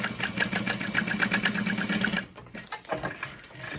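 Sewing machine stitching a U shape around fused interfacing on a crossbody bag: a rapid, even mechanical whir for about two seconds, then stopping into a few quieter clicks and handling sounds.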